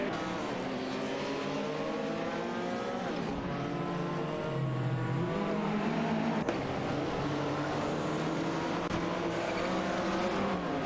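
Race cars circle a track, their engines whining at high pitch in layered, overlapping tones that rise and fall as the cars shift gears and pass, loud and constant throughout.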